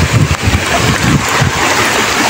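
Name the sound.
strong flood water current during typhoon flooding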